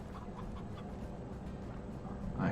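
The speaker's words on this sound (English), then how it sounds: "I heard chickens, though." Chickens cluck in the video game Slime Rancher, soft repeated clucks over a low background hum, fairly quiet and continuous.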